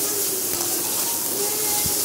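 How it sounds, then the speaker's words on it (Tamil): Onions and tomatoes sizzling as they sauté in a pan for papaya sambhar, a steady close hiss holding evenly throughout with no talk. "தக்காளி வெங்காயம் நல்லா வதங்கிட்டுருக்கு."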